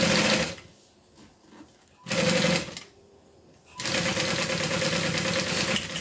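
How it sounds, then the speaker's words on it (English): A sewing machine stitches down one side of a quilted strap fitted with a 3/4 inch lobster clasp, running in three loud bursts separated by brief pauses, with the last run long and steady. "So you can just sew it down one side,"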